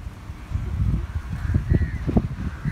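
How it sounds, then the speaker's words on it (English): Gusty wind buffeting the microphone in low, uneven rumbles at a Goa beach resort, with a faint tone drifting in the background. "It's windy."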